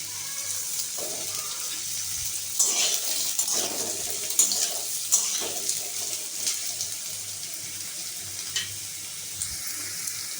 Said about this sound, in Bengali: তেল গরম হয়ে গেছে, আমি আলুটা দিয়ে দেব।